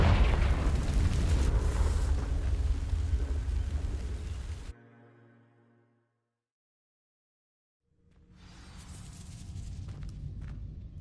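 A Confringo fire spell from Hogwarts Legacy blasts dry vines with a loud, broad fiery roar. It cuts off to near silence, then a softer rumbling crackle builds back up.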